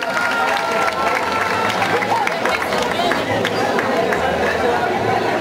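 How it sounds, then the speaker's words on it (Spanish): Crowd applause mixed with chatter and cheering at a beauty queen election in Pasaquina, a busy, continuous roar of many hands and voices. "Fuerte el aplauso"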